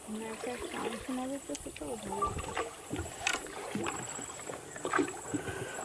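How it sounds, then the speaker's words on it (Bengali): A peaceful rowboat ride through a floating guava garden, with gentle water lapping and paddle sounds beneath nearby voices speaking Bengali, including a child. "খুব পিসফুল একটা বোট রাইড।"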